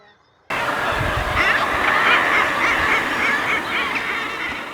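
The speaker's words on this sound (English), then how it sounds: "They were actually a colony of guillemots." A dense, loud chorus of guillemot calls from a cliff colony on Skomer Island, raucous and overlapping, continuing without pause after a brief quiet start.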